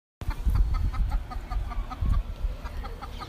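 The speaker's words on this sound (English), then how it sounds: "Oh snap, there's a rooster." A rooster or hen clucks outdoors in a few short bursts with pauses between them, fairly close amid light background noise, with no talk.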